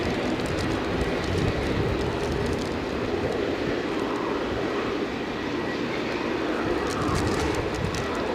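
A British Airways Airbus A320 departs Edinburgh for Heathrow on a stormy day, its engines a constant broad rumbling roar that stays level and unbroken throughout, with no one speaking.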